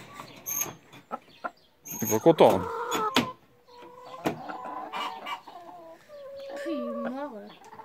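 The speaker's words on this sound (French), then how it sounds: "Voilà, il y a le coq qui est en train de gérer." A rooster and organic retired laying hens cluck and call in irregular bursts nearby, mixed with sharp squawks, while people talk over the flock.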